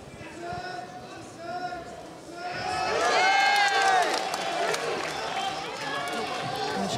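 At a fight event, a crowd's noise swells from a murmur into louder cheering and shouting partway through, and a commentator talks over it.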